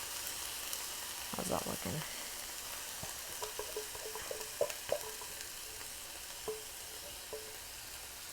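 Tomato sauce bubbles and sizzles in a pan for a lasagna, a steady hiss punctuated by scattered pops and spatters, with a brief spoken question partway through.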